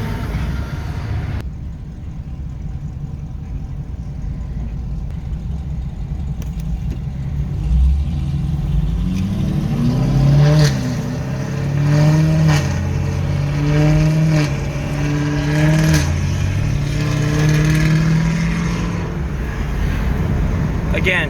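A Chevrolet Camaro with a loud exhaust revs in traffic, its engine note rising and droning steadily over road noise for the latter half after a stretch of general traffic rumble.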